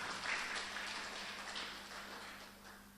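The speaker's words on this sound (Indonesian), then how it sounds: "Terima kasih, tepuk tangan dulu untuk Lusen." Congregation at a church service applauding, a faint, diffuse patter of clapping that fades gradually toward the end.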